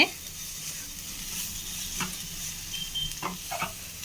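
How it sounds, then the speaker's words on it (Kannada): Peas, onion and ground paste being stirred in a frying pan for masala green avalakki, a steady close sizzle broken by a few scraping strokes of the spoon, no talk. "ಇದರ ಎಲ್ಲ ಚೆನ್ನಾಗಿ ಮಿಕ್ಸ್ ಆಗೋ ಥರ ಬಟಾಣಿ, ಈರುಳ್ಳಿ ಮತ್ತು ಪೇಸ್ಟ್ ಎಲ್ಲ ಚೆನ್ನಾಗಿ ಮಿಕ್ಸ್ ಮಾಡೋ ಥರ ಮಿಕ್ಸ್ ಮಾಡಿಕೊಂಡ್ರೆ ಆಯಿತು"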